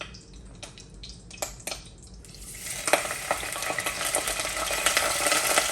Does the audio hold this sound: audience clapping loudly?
no